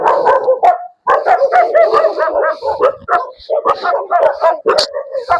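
A group of dogs barking in rapid, overlapping volleys, loud and near, with yips and short whimpers mixed in and only brief pauses between bursts.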